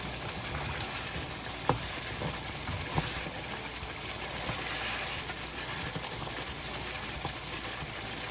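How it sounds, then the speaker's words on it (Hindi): Goat head meat stirred and frying in a pan gives a steady, fairly quiet sizzle, with a few sharp clinks of the spoon against the pan along the way. "सबको अच्छी तरह मिला लेंगे और भूनना शुरू कर देंगे।"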